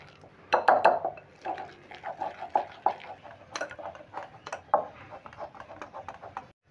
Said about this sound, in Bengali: দিয়ে এবার আস্তে আস্তে জল দিয়ে ব্যাটারটা করে নেব।